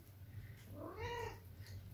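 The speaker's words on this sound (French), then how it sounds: "Pikachu, c'est le chat préféré de René, de nos trois chats." A house cat meows once with a clear, rising-and-falling call, close and distinct over a low steady indoor hum, with no talk.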